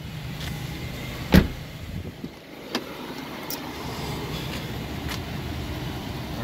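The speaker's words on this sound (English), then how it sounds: "Got the power fold mirrors, which is nice." Power-folding side mirrors on a 2016 Ford F-350 truck give a short motor whir after a sharp click, with a second fainter click following, close up against a steady background hum.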